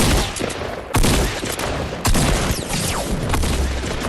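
Shotgun blasts fire in the video game Fortnite, with two loud, sharp shots standing out near the start and middle among a rapid spread of further gunfire and busy game noise.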